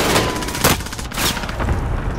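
Bursts of gunfire and explosive booms from a Warzone Plunder match, with a dense, loud barrage and heavy hits near half a second and again around 1.3 seconds, continuing under a steady battle din.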